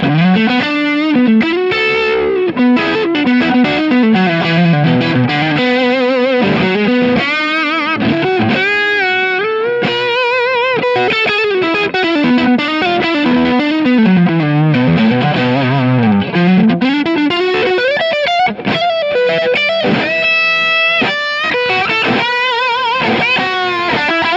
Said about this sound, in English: I've got a Marshall Plexi kind of solo sound with the Kemper delay and reverb.